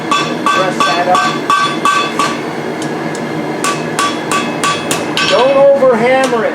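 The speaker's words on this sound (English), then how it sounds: "Don't over hammer it." A blacksmith hammers steel on an anvil while forging tongs: a fast, steady series of loud ringing metallic strikes, close up, with a brief ringing, wobbling tone near the end and no talk.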